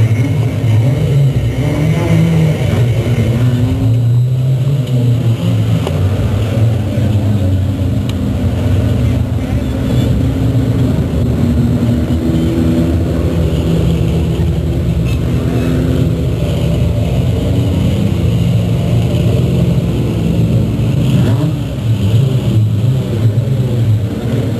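Stock cars and trucks circling Delta Speedway at night, a dense low engine rumble droning steadily from a distance with a faint voice over the track noise, no distinct passes standing out.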